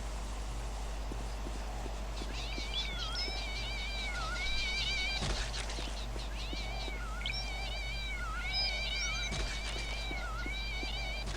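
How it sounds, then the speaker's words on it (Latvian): Cats falling from the sky in the video game Postal 2 meow repeatedly, rising and falling cries spaced a few seconds apart over a steady game hum, with occasional hoof-like clip-clop thuds. "Tas stulbie kaķi gāžas no gaisa."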